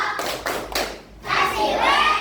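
Children in a classroom clap a short rhythmic pattern, a few quick bursts of hand claps, then a pause and a longer stretch of clapping mixed with young voices chanting.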